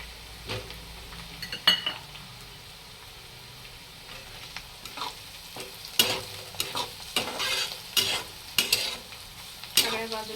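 Chilies drop into hot oil in a pan while cooking spicy Marathi-style baingan bharta, followed by close, crackling sizzle and repeated scraping stirs of a spoon against the pan in uneven bursts.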